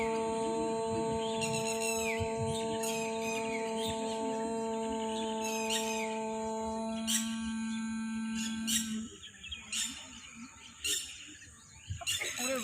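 Birds chirping outdoors, repeated short bright calls in irregular bursts over a steady sustained tone that drops out partway, fairly close and clear with no talking.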